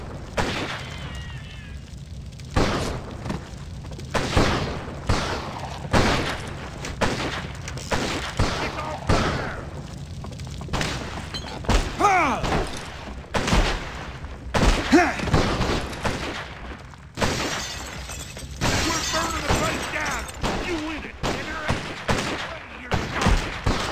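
Repeated gunfire in the Western video game Gun during a mission around the Alhambra Saloon: sharp shots and booming blasts crack out in irregular bursts throughout, close and loud, with voices talking between them.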